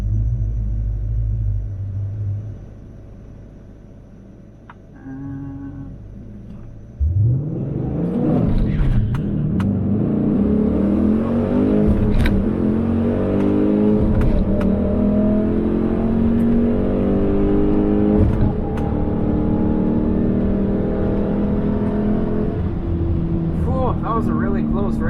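Drag racing cars roar close by at a drag strip, launching with a loud, sudden burst of engine noise after a quieter idle. The engines then rev up hard and climb in pitch as the cars pull away. Speech is faint underneath.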